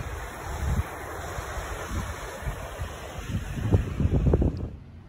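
Ocean surf washes onto a pet beach with low rolling wave noise, steady and moderately close, with gusts of wind buffeting the microphone.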